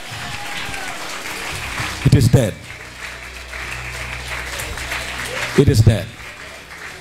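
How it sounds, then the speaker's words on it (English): An audience claps along through a steady wash of hand clapping while a voice shouts over it in two loud bursts. "Clap your hands"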